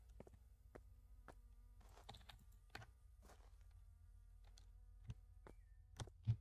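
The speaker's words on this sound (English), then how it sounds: "These flies are on my nerves, just buzzing in my ears." Insects, apparently flies, buzz in the indie horror game Last Bus Home, a faint steady drone with brief clicks and ticks scattered over it at close range, no voices.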